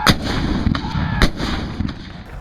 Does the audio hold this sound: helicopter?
no